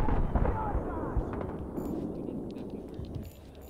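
Gunfire in the shooter Battlefield 3: a loud opening burst of shots and a rumbling blast that fade into scattered distant cracks and pops, with fainter shots near the end.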